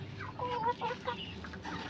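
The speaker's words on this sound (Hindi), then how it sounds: "ये देखिए है मुर्गियाँ।" Hens clucking in their coop at a farmyard, several short bursts of clucks repeating close by, no talk over them.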